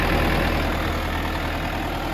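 ENEY TY404 mini tractor engine idling nearby, a loud, steady rumbling drone with an even low pulse throughout and no talking.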